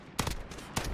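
Rapid bursts of gunfire from the video game PUBG, two loud clustered volleys within a second, dense and punchy over a steady game background.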